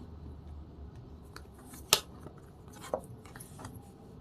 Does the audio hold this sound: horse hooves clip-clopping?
no